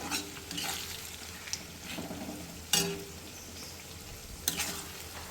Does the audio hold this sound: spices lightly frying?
yes